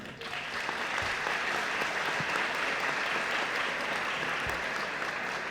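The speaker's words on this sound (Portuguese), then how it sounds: "Vocês perderam o hábito de cumprimentar as pessoas quando assumem aqui a posição de professor, com uma salva de palmas" An audience in a classroom or lecture hall claps for several seconds to welcome a teacher, a steady, dense wash of applause with no voices over it.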